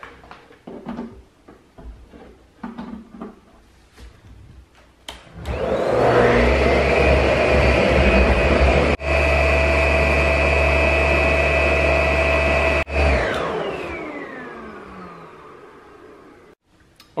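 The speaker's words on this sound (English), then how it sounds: "Okay, we gotta try the vacuum." A vacuum cleaner powered by an EcoFlow Delta Mini portable power station starts up after some handling noises, runs loudly and steadily for several seconds, then winds down as it shuts off.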